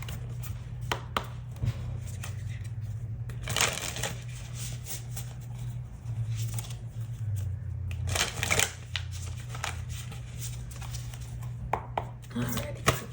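Tarot cards are shuffled in repeated papery riffles and soft slaps over a steady low hum, with faint speech in places.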